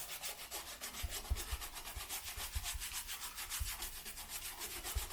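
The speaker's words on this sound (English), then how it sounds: "We gonna start scrubbing. Start scrubbing that side." A stiff brush scrubs a dirty white Nike Air Force One sneaker up close, making steady rhythmic rubbing strokes with soft bristle scratches and occasional knocks, with no talking.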